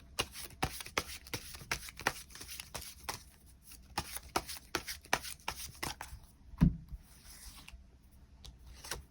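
Tarot cards are shuffled and drawn up close, giving a rapid series of crisp riffling snaps and soft slides, with one louder thump partway through and no speech.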